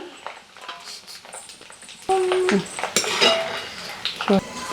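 Metal utensils clatter and scrape against a pan as fried coconut pieces are scooped out, with bright clanks and ringing tones in quick irregular bursts.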